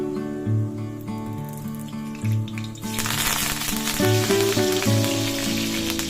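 Curry leaves drop into hot oil with crushed garlic and burst into a loud, crackling sizzle that starts abruptly partway through, over a steady background tone, with no one speaking.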